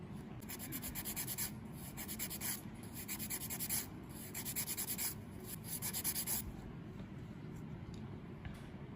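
Steady, close rasping of a fine file scraping back and forth over a false nail tip in quick repeated strokes, continuous and even throughout.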